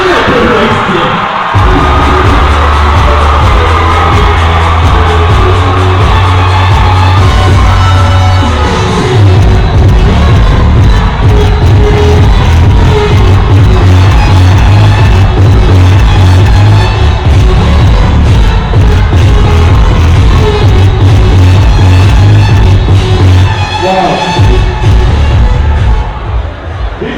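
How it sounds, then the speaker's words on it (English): A large, hardcore crowd at a competition event cheers and shouts continuously, loud and dense throughout, with a heavy low thumping beat underneath. "Very hardcore crowd."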